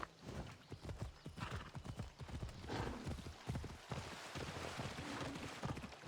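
Horse hooves clip-clop steadily across the ground in Assassin's Creed Odyssey, a quick, even rhythm running the whole time, close and fairly loud, with a brief whinny in the mix and no talking.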